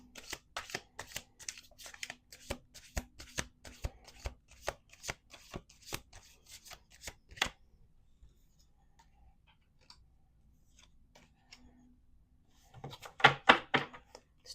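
Rapid riffling bursts of playing cards being shuffled, repeated in a quick rhythm up close, a pause, then another shuffle near the end.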